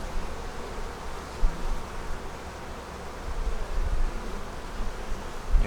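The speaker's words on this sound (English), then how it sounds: "But you have to keep an eye on your bees and see what they're doing at both sides." Honey bees buzzing around a hive on a cold day, a dense, continuous drone of many insects at close range, with no voices.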